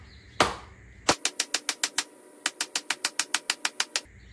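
Dead blow hammer striking the injection pump gear nut on a 1996 12-valve first-gen Cummins diesel, a loud single blow then two rapid runs of sharp, evenly spaced metallic hits, about eighteen strikes in all, with no talking.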